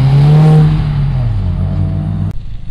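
An Audi S4 drives past at a cars-and-coffee meet in Fairfield, Ohio, its engine note loud and close, droning with shifting pitch before cutting off abruptly near the end.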